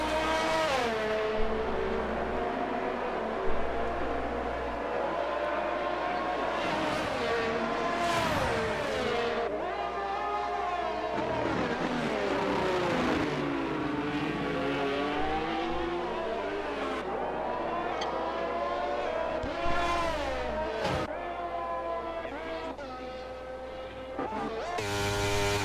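Race car engines roar and rev continuously in a sim racing game at the Austria circuit, rising and falling through gear changes with occasional tire squeal, steady and moderately loud with no voices.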